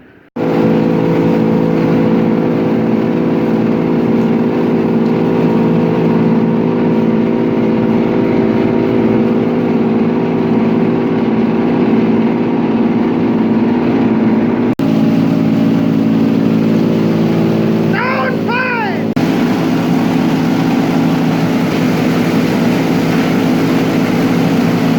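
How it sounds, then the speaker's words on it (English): A silo motor runs on top of a high-moisture corn silo, giving a loud, steady, unbroken mechanical drone that holds for the whole stretch with no one talking. "we'll use the silo motor to clean the top off"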